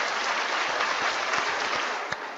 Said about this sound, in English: you just start clapping like it's all done